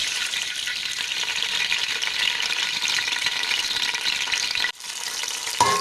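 Onions sizzle and crackle in hot oil, a dense, steady, loud frying hiss that runs continuously, dipping briefly near the end before resuming.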